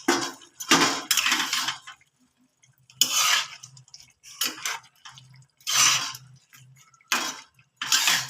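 Fried mourala fish tossed and stirred with boiled vegetables in a pan for a Bengali chachchari, giving bursts of metal spatula scraping and clattering against the pan with short pauses between, close and fairly loud, with no talking.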